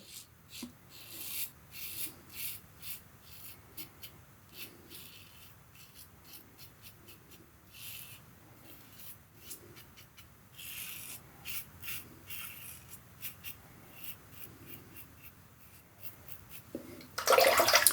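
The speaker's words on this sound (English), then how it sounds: "All right, stainless steel again, second pass. Across the grain." Stainless steel safety razor shaving across the grain on a second pass, a series of short, quiet scraping strokes in a steady rhythm, close by, ending in a brief louder burst.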